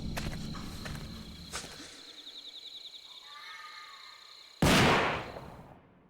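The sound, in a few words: gunshot echoing through shrine grounds in video game Death Mark 2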